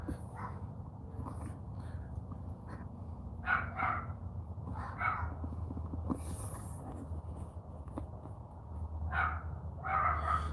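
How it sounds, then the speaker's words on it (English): Dogs bark in short bursts, a few yips and barks spread across the clip, somewhat distant, over a low background rumble. "You hear my dogs barking."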